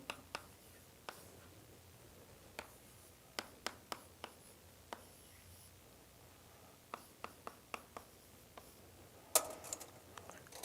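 Chalk tapping and scraping across a blackboard as a lecturer writes out equations during a doctoral course on partial differential equations, a quiet scattered series of sharp clicks and short strokes in a hushed room with no talk.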